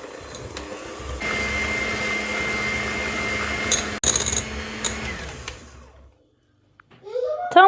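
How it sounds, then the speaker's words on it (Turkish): An electric mixer whisks three eggs with a glass of sugar until foamy, a steady whirring motor hum that runs for several seconds before cutting out to quiet, with a brief voice at the end. "1 su bardağı toz şekeri de ekleyip güzelce köpük köpük olana kadar çırpacağım"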